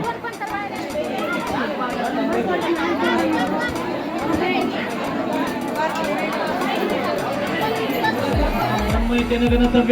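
Dense crowd chatter fills a temple festival gathering for Datta Jayanti, many voices overlapping in a steady, loud hubbub with no single speaker standing out.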